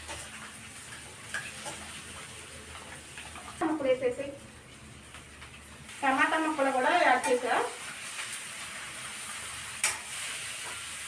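Ingredients for paneer biryani fry in a pan, a faint steady sizzle and hiss running beneath two short bursts of talking.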